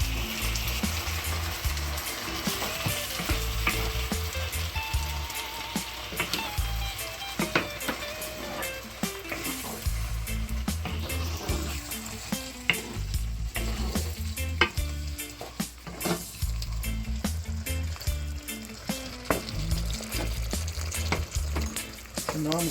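Sauce and meatballs sizzle and crackle steadily in a frying pan while being stirred now and then, a dense, continuous fry close up with no talking.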